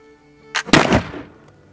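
A Charleville flintlock musket fires once: a brief priming flash crack followed by a loud, booming main discharge that rings and decays, close by and outdoors.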